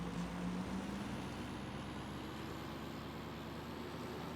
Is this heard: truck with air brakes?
yes